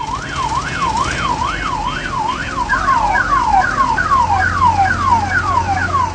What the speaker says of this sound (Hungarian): A tűzoltó autók szirénázva vonultak fel egészen a futballpályáig.